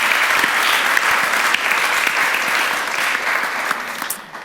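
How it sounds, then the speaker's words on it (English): Sustained applause from a large audience at an art talk, a dense steady patter of clapping that carries on for several seconds and tapers slightly near the end, with no talking over it. "please give us a round of applause for our artists and contributors"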